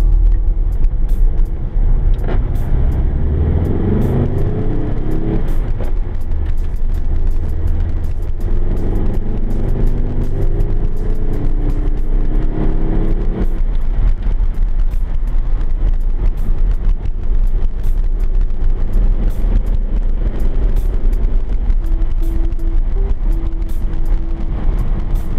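A 1970 VW Beetle drives along, its air-cooled engine giving a loud, steady rumble from inside the car with road noise throughout and a few shifts in engine pitch.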